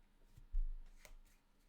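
A deck of cards is shuffled once in a short riffle during a Commander card game, a brief close burst of papery flutter over quiet room tone, with no talk.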